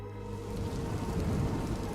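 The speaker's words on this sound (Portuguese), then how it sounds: "Certa noite, uma forte tempestade caiu ao lado de fora" Heavy rain pours outside at night during a thunderstorm, a dense, steady hiss with a low rumble swelling underneath, with no voices.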